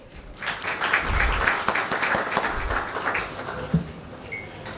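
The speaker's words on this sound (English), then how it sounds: "please welcome them with a round of applause." An audience at a legal education conference applauds as speakers walk to the podium, a sustained moderate clapping with a few sharper individual claps standing out.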